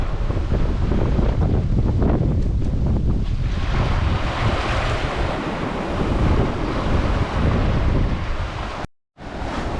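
Strong wind of up to 20 knots roars across the microphone while a sailing yacht moves quickly over the sea, with loud continuous gusting and rushing water, briefly cutting out near the end.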